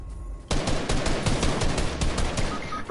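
Rapid SMG fire in a video game starts abruptly after a brief quiet moment, then continues as a dense, close burst of shots with sharp, steady cracks.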